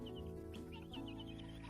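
A Polish chicken clucks softly a few times against a steady, fairly quiet background hum on a farm.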